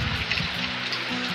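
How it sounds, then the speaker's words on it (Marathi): A monsoon downpour hammers village fields in the Konkan, giving a constant close wash of raindrops with a faint low rumble underneath and no voices. "अजून जोरदार पावसाला सुरुवात झाली आहे"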